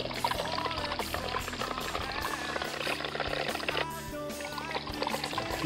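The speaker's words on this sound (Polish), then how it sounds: "Trzeba nalać dużo wody do wiadra" Water pours steadily into a bucket at a fishing spot, a continuous splashing rush that fills the whole clip at close range with no talk over it.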